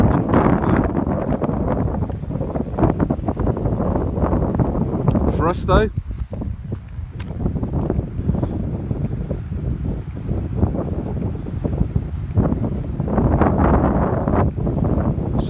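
Strong wind buffets the microphone at Brown Bay beach in South Australia, a loud continuous roar with gusty rumbles throughout, while a person talks briefly under it.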